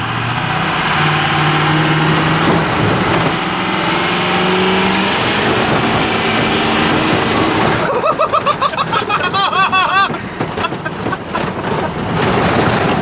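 A 6.0 Powerstroke diesel truck engine drones loud and steady, then roughens into pulsing, choppy bursts as it builds boost, heard close with wind-buffeted texture.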